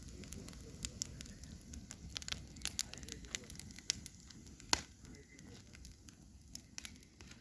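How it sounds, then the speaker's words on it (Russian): A campfire burns in a barbecue grill, quiet continuous crackling and small sharp pops scattered irregularly over a low outdoor hiss, with no one speaking. "Костер на мангале."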